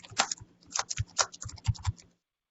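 Keys clatter on a computer keyboard during an online meeting, several quick bursts of clicks in an uneven rhythm, close and fairly loud, with no one speaking.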